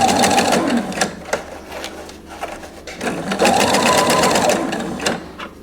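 Sewing machine stitching shirring rows with elastic thread in fabric, running in two close bursts of rapid even whirring stitches separated by a pause with a few clicks.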